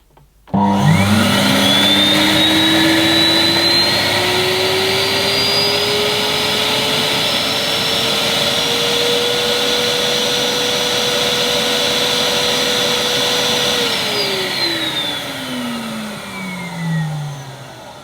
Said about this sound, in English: Despite its 1400 watt motor and exceptionally loud noise levels, this has less suction than a Henry.